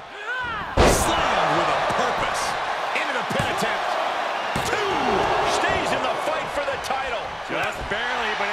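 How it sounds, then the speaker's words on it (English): A wrestling body slam in WWE 2K23 during an Eddie Guerrero vs Kurt Angle WrestleMania 20 match lands as one sharp, loud impact, followed by continuous crowd roar and commentary talk. "Slammed with a purpose."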